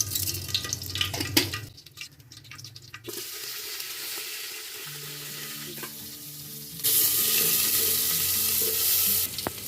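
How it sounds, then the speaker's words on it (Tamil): Mustard seeds crackle in hot oil for a dry fish curry, a sizzling pan with some splashing water early on, then a louder, steady spitting hiss near the end. "கொஞ்சம் எண்ணெய் ஊற்றிக்குவோம், கடுகு போட்டுக்குவோம்."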